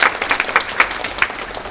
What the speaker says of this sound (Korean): 우리 박수 한번 보내주시기 바랍니다